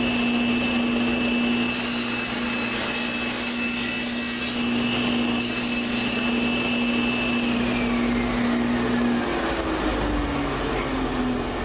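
Power saw cutting wood for pub table stools, a loud continuous motor whine with a steady cutting rasp, winding down and dropping off after about nine seconds.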